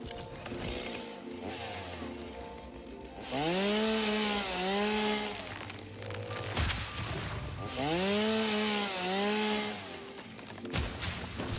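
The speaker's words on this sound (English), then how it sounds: "I need to have 40 biofuel on me at all times" Biofuel-powered chainsaw in a video game, revving up loudly in two long cutting bursts with a steady whining drone, separated by a brief lull and a sharp click.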